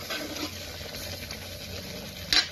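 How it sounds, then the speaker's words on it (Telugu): Masala for chicken curry sizzles and bubbles steadily in a pan over high flame, a dense close frying hiss with a brief sharper scrape or stir near the end. "ఇప్పుడు మసాలా బాగా ఉడుకుతుంది కదా"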